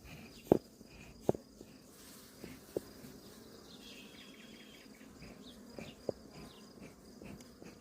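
Honeybees buzz faintly around an open hive during an inspection, a soft continuous hum with a few sharp clicks and knocks scattered through it.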